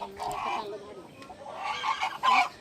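Village desi rooster and hens clucking and calling in a few short, fairly loud bursts, with a quieter stretch between the first and the last calls.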